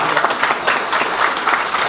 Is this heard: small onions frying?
no